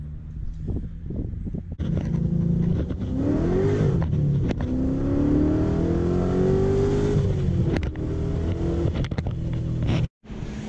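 A Corvette C6 Z06 with a fully built LSX 441 stroker, 102 intake and 102 throttle body, accelerates hard from close by, its engine note rising in long sweeping climbs after a quieter start, with a brief dropout near the end.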